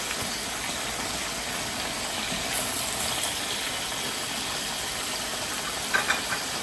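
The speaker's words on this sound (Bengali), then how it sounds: "এখন এতে দিয়ে দিচ্ছি কয়েকটা পেঁয়াজ" Onions hit a hot pan for Peshawari chicken and give off a steady, even sizzling hiss that runs throughout, with a couple of faint pops near the end.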